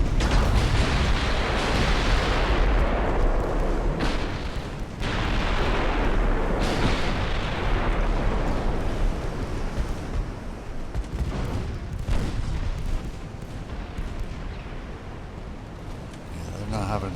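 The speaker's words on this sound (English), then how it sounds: "Get this next salvo off and then we'll take evasive action." Naval artillery salvos firing in the Ultimate Admiral: Dreadnoughts video game, with dense, rumbling booms overlapping in a sustained, loud barrage and a voice talking over it.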